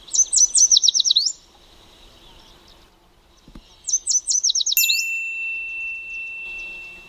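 A yellow warbler sings in the Sax-Zim Bog, two bright, rapid trilled phrases of sweet notes several seconds apart, clear and fairly close over quiet background, with a brief high tone near the end.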